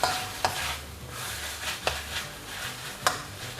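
Wild boar is stir-fried with sliced krachai in a pan, with a steady sizzle under the scrape of a spatula and sharp clanks about three times across the stretch.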